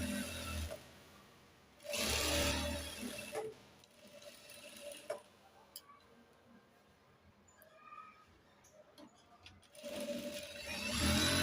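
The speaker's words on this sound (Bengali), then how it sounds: "প্রথমে এখানে একটা সেলাই দিয়ে এটাকে জয়েন দিয়ে দেব।" A sewing machine stitches a seam on a child's pajama pocket in several loud mechanical whirring bursts, separated by quieter handling noises.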